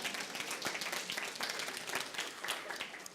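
Audience clapping during a talk on incivility and political dysfunction, crisp individual claps blending into a steady, fairly quiet patter from a roomful of people, continuing evenly with no voice over it.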